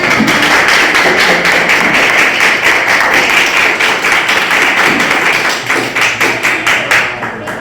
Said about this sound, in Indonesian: pertama Fatia dan Fabia, boleh tepuk tangan untuk kita semua.